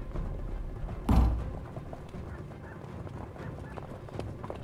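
Horse hooves clip-clop in a staged audio-drama battle scene; a heavy thud stands out near the start, followed by a steady low background of movement.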